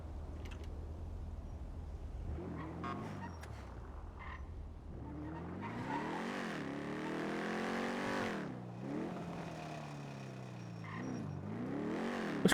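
A damaged car in the video game Grand Theft Auto on the NoPixel roleplay server, engine revving repeatedly in loud rising and falling surges that continue throughout.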